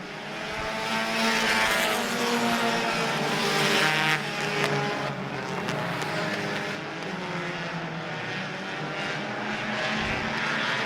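Race cars at Citrus County Speedway roar loudly and continuously around the track, a dense engine drone with passing surges and no voices.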